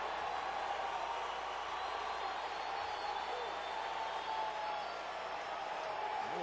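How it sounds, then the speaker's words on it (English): A baseball stadium crowd at a Cubs home game against the Brewers rises to its feet, making a steady, broad murmur and roar throughout, with a commentator talking over it. "Crowd getting up."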